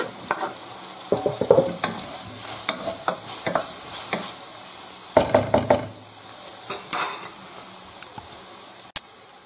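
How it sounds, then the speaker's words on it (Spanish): A spoon stirs sofrito with a little tomato in a frying pan, soft sizzling under a run of irregular scraping clacks against the pan, close by, ending with one sharp metallic knock; no talking. "Y a sofreír sin quemar nada."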